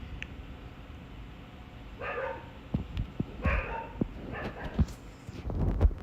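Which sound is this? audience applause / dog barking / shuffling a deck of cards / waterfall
dog barking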